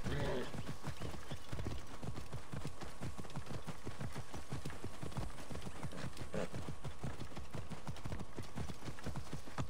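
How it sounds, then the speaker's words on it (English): A camel walks in Assassin's Creed Origins, its steady rapid footfalls clopping continuously at close range, with an animal call near the start and faint background game sound. "Even the camel follows."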